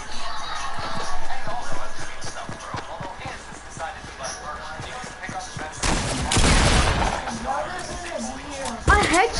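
Fortnite gunfire: a rapid train of sharp shots with repeated bursts, loud and close, mixed with in-game effects and under occasional talking.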